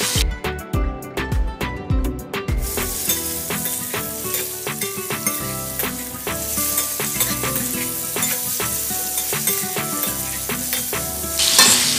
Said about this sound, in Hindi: लौकी को हम इसमें ऑयल में इस तरह से काट के फ्राई कर लेंगे।